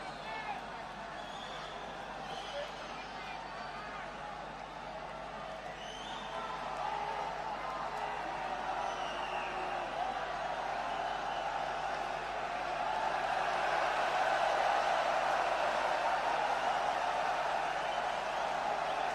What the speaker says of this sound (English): And a bit of crowd noise as a linesman gets changed.